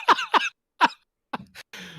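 A person coughs several times, close and loud, in a quick pair followed by single harsh coughs, with short silent gaps between them and no speech.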